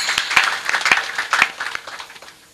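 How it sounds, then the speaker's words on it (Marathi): At a Navratri kirtan, a crowd gives a short round of clapping for the cymbal players, with a few sharp claps standing out before the applause fades away. "एकदा सगळ्यांकरता जोरदार टाळी झाली पाहिजे"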